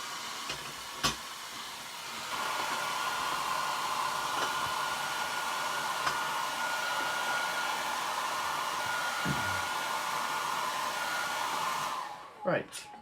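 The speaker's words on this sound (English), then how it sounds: "I'm going to give this another quick blast with the hairdryer just on the edges" A hairdryer blows steadily on the painted edges of a glass piece, a loud continuous whooshing hiss that runs close for most of the time, with a few small knocks and handling sounds near the start and end.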